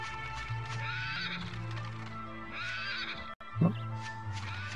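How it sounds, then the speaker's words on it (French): In the Dragon Quest VIII video game, a horse whinnies over a background music loop, with hooves clip-clopping and a louder snort near the end; no speech. "Oh, un cheval!"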